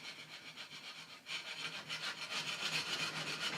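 Coarse rasp working the handle of a laminated, fiberglass-backed flat bow: a steady run of rough, scratchy strokes up close, growing a little louder and denser partway through, with no talking.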